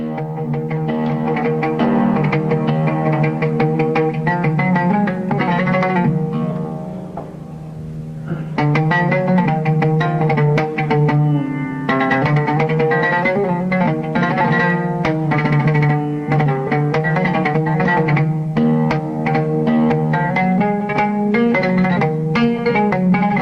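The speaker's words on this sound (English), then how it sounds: "Oud sounds like this" An oud plays a continuous Arabic melodic passage with quick plucked notes and a resonant low body, loud and solo, with a short drop in intensity partway through.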